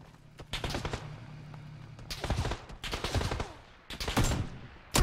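Video game gunfire in a firefight breaks out in several rapid bursts, loud and close, separated by short pauses, with no talk over it.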